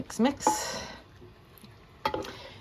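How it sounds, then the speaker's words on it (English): Spoon stirring a hamburger casserole mixture in a pot, with a few close scraping, squishy strokes at the start and again near the end, a quiet pause between them. "And now we're going to mix."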